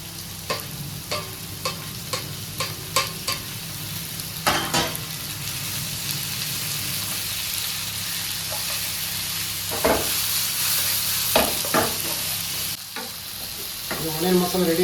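Onion, garlic, ginger, tomato and cashews fry and sizzle in a pan for paneer mutter masala, with a steady hiss broken by a run of spoon-stirring scrapes and clinks, close and alone.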